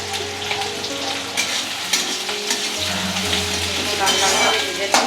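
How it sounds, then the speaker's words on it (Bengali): Chopped onions fry in oil for a Bengali chicken kosha, fried until reddish brown; a loud, close, continuous sizzle with stirring scrapes and clinks of a utensil against the pan. "পেঁয়াজটা আমার লাল লাল করে ভাজা হয়ে গেছে"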